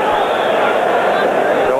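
A baseball crowd at Riverfront Stadium, Reds hosting the Mets in 1986, gives a standing ovation. A dense, steady roar of cheering and applause fills the air, loud and continuous throughout.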